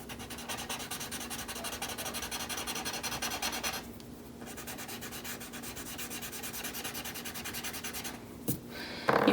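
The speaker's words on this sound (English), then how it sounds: "go back to my blending stump and see how I can get that texture to look nice and smooth" Blending stump rubbing across drawing paper, a steady soft scratchy friction that continues close and even for most of the stretch, with a brief pause midway and a sharper scuff near the end.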